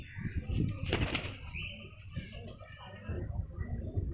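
A pigeon released by hand, with a burst of flapping wings up close near the start, then softer rustling and outdoor ambience while a person talks over it.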